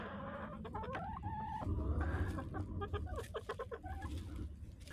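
Chickens in a snowy coop cluck and squawk close by in quick, overlapping bursts over a steady low rumble, with no one speaking.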